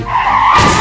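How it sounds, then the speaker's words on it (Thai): A taxi skids on a bridge over the Ratchada–Rama IV intersection before crashing into a parked car: a brief, loud tire screech that breaks into a harsh burst of noise. "แท็กซี่ซิ่งก่อนเสียหลักพุ่งชนรถที่จอดเสียบนสะพาน"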